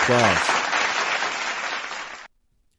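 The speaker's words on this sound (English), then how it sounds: "If I wanted applause right now, I would get an" Pre-installed applause sound effect from a Maonocaster Lite podcast mixer: a steady burst of crowd applause, dense and loud, cutting off abruptly after about two seconds, with a short tone at the very start.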